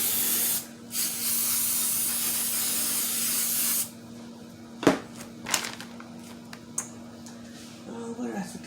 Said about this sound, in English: Now I'm going to spray the top of it instead of spraying the foil.